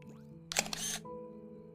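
A camera shutter fires in The Sims 4, a short burst of bright mechanical clicks and whirring over soft, steady background game music.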